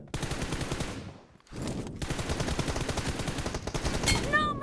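Rapid automatic M4 rifle fire in a video game, dense bursts that run on continuously with a short pause near the start, loud and close, with bright ringing hit tones near the end.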